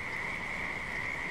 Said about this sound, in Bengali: তার সাথে দিনরাত্রি ব্যাঙের ডাক এবং বৃষ্টির শব্দ।